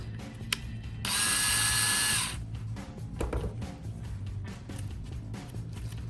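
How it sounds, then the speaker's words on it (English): A power drill whines at high speed for about a second close by, boring with medium pressure through a resin keychain blank, then cuts out, leaving a low steady hum and faint handling noises. "you're just going to drill with medium pressure right through the blank"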